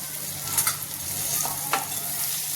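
Mashed potatoes are stirred through spices in a hot pan for bread pakoda filling, making a soft steady sizzle with a couple of brief scraping strokes, close and without talk.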